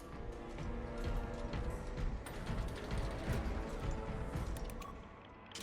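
Lift machinery grinds along in a sci-fi shooter game: rumbling, clanking mechanical movement with scattered metallic knocks and clatters, fairly faint and continuous, ending with a short dip in level.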